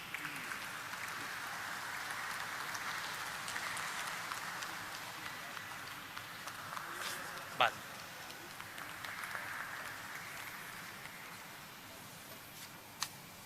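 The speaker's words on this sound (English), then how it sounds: "Please give a big round of applause to NSE team." An audience applauds at a stock exchange listing ceremony, soft steady clapping that swells and eases at moderate distance, with a couple of sharp isolated knocks and voices talking faintly beneath.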